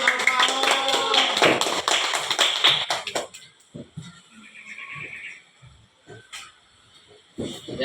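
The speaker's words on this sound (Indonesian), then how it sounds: "kasih tepuk tangan dong buat Alvaro." Classroom of students clapping hands together for a classmate, a dense burst of claps over the first few seconds that quickly dies away into quieter room noise and scattered movement.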